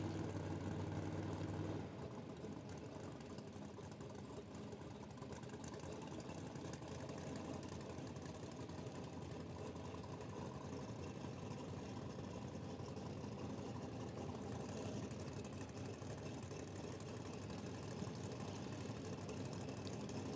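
A Nitrous Express big block drag car idles steadily in the lanes at a drag strip, a low continuous engine rumble that holds even and fairly loud throughout, with faint background ambience.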